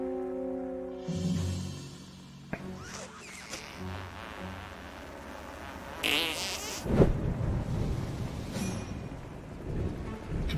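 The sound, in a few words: fart sound from video game South Park: The Stick of Truth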